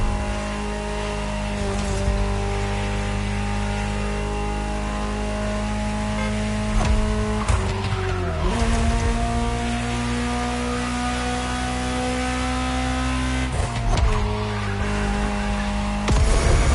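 A car engine in The Crew Motorfest racing game drones loudly and continuously, holding steady pitch with a couple of sharp revs and gear shifts.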